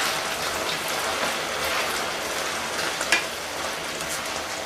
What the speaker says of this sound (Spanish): Hay que moverlas un par de veces en todo el tiempo de fritura.